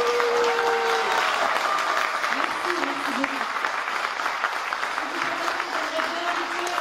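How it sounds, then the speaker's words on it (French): Steady audience applause fills the room at a French film event honoring a cast, a dense continuous patter with a few faint voices and cheers mixed in, sustained throughout. "applaudissez-les"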